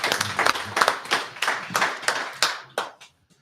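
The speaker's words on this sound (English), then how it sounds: "This one right here just clapped while reading her phone." A woman in a kitchen claps her hands while reading her phone, giving a series of sharp, close, uneven claps in quick bursts that stop abruptly.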